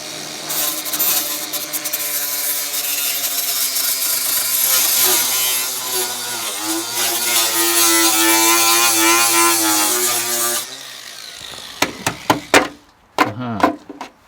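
An angle grinder works on the footwell of a VW T3 van, loud and continuous for about ten seconds with pitch shifting as it bites the metal, then stops, followed by a few clanks and knocks.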